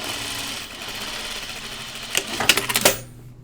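A serger stitches an underarm sleeve seam with a steady mechanical whir that grows busier and more clattery toward the end before stopping, heard up close with no talking.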